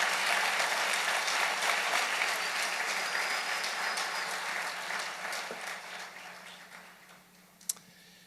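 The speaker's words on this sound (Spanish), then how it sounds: "Dale un aplauso bien fuerte al Rey bendito" Sustained applause from a church congregation fills the space as a dense, even wash of clapping that slowly fades out, ending with one sharp click.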